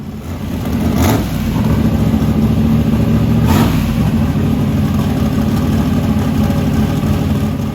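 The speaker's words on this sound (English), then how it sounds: "Idling at about 1700 RPM with the lean out open" A 421 small block V8 idles at about 1700 RPM with a steady, loud, rumbling burble that holds even throughout, broken by a couple of brief sharper pops.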